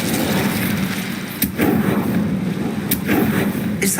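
Incendio fire spell cast in the video game Hogwarts Legacy, a loud whooshing burst of flame with sharp crackling hits and thumps, steady and close, without talk.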